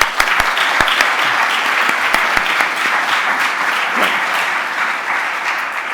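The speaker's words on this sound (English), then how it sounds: "Let's have a round of applause for that." A crowd claps continuously, sharp individual claps standing out from a dense, sustained round of applause.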